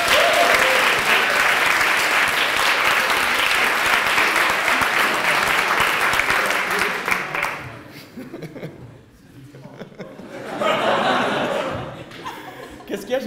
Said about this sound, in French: Faut l'applaudir.